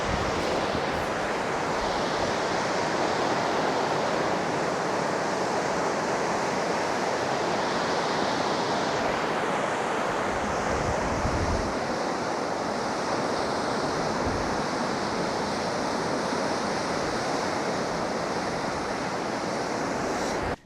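Ocean waves break steadily on a surf beach on the Eyre Peninsula, a loud, unbroken roar of surf with broad hiss and low rumble, heard alone without voices for about twenty seconds.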